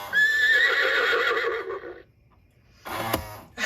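A battery-operated cuckoo clock with a pop-out horse figure gives a loud electronic horse whinny lasting about two seconds, then goes quiet, then makes a short burst of clip-clop hoofbeats and mechanical clatter.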